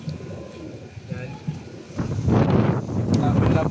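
Wind gusts at an outdoor pigeon loft under rebuilding, a rough buffeting that swells into a loud, sustained blast against the microphone in the second half, with pigeons cooing and a person talking underneath.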